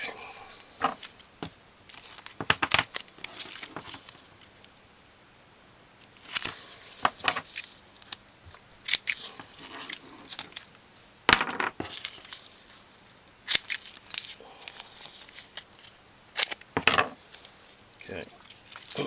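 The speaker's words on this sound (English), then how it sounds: "Cut that off, cut the end." Scissors snipping lure skirt material, a series of sharp, close clicks and cuts spaced irregularly between quieter pauses, with occasional talking.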